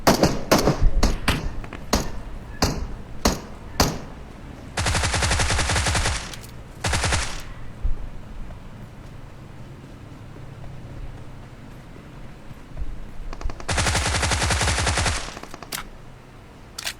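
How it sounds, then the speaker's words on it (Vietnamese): Video game gunfire in a solo squad battle royale match: a volley of single sharp shots opens, then long automatic bursts roar loud and close, separated by quieter gaps. "Thì ta là đang bắn nhau bên kia anh em ạ."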